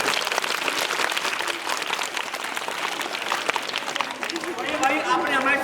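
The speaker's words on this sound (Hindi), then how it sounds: "तो एक बार दोनों बच्चों के लिए क्लैपिंग तालियां जरूर बजाएं" An audience at a school magic show claps for two children, a busy patter of applause mixed with children's voices and chatter, moderately loud and slightly distant.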